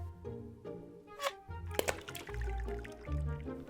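A toy car is dropped into water and sinks, giving a soft thunk and splash followed by gurgling, bubbling liquid sounds, close and fairly quiet with no talking.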